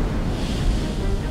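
Ocean waves surround an ultra-deep water drilling rig in the middle of the sea, a low churning surf rumble mixed with wind buffeting the microphone, loud and continuous throughout the short stretch.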